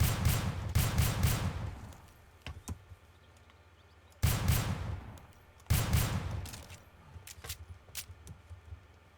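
Rifle gunfire in the video game STALKER Call of Pripyat: three loud bursts of rapid shots, each decaying into a reverberant tail, with faint clicks between them and no talking.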